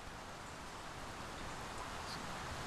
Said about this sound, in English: So I've got the rain fading in.